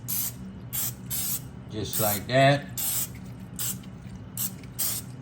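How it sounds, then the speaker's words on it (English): Olive oil is sprayed onto a Power XL grill plate tray in a few short hissing bursts, close up, between stretches of someone talking. "I'm gonna just spray it with a little of this olive oil,"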